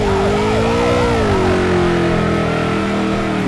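A loud, close police car siren from the racing crash video game Turbo Dismount wails steadily on its own, its pitch sweeping up and down before settling into a held tone.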